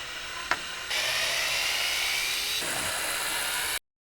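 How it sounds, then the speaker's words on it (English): A small power driver with a T15 Torx bit whirs steadily for about three seconds, high and close, backing screws out of a Jeep Wrangler JK headlight housing after a single sharp click. "Go ahead and unscrew the torque screws."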